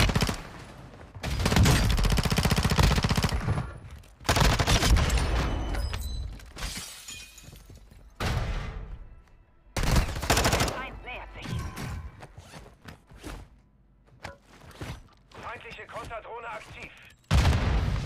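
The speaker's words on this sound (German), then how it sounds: "warum schießt der Typ so auf mich?" Shooter video game gunfire comes through as loud, dense bursts of automatic fire and shattering impacts in several long volleys with brief gaps, close and heavy, while a player talks over parts of it.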